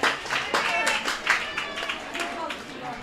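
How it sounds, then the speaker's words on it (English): A crowd at a State AA high school baseball game claps and cheers in a dense, close roar with sharp bursts of applause, continuing without break for a few seconds. "the crowd is way into this one"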